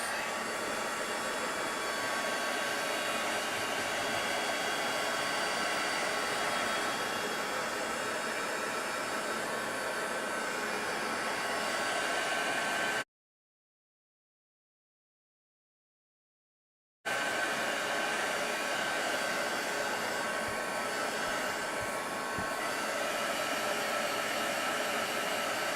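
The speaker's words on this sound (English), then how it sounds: "I'm going to take my heat gun and just" A heat gun blows a steady, even hiss while drying a small leather craft piece, continuous and close, pausing briefly midway before resuming.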